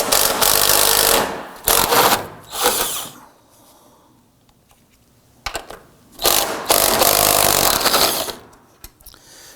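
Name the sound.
wrench removing strut top nuts with 13mm socket, Subaru Legacy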